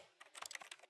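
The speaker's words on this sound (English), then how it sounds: "The sounds, it's like the keys of a keyboard." Keyboard keys clicking in The Stanley Parable video game: a quick, faint burst of about a dozen rapid taps in under a second, with no voices.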